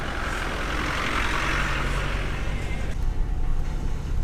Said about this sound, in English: So we are right now driving onto the track of the world record.